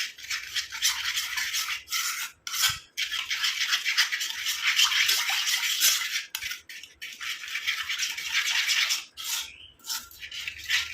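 Hair dye powder and coconut oil are stirred in an iron pan, producing repeated scraping, rubbing strokes with brief pauses between them, close and moderately loud.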